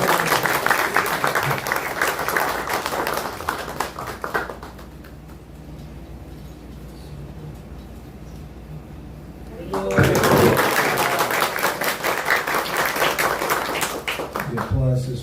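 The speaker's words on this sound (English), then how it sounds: "The applause is for our expertise at catching these." Audience applause at a talk, a burst of brisk clapping for several seconds that stops, leaving a quiet room, then resumes just as strongly for another few seconds.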